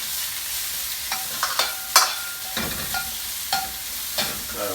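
Satay chicken stirred in a frying pan, a soft constant sizzle punctuated by a string of irregular scrapes and clinks of the utensil against the pan, close up, with no one speaking.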